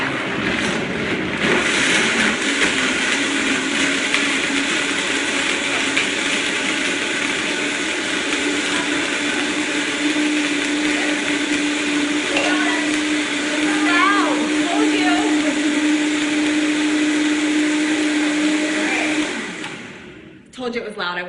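A blender runs on high speed, grinding almonds for homemade almond milk. The loud, steady whirring roar holds for about twenty seconds and then winds down near the end.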